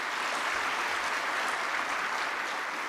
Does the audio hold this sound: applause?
yes